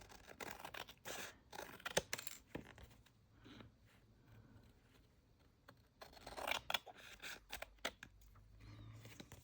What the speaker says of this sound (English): I'm just going to cut off the pieces that we don't need.